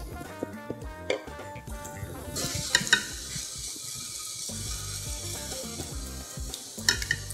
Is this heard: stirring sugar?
yes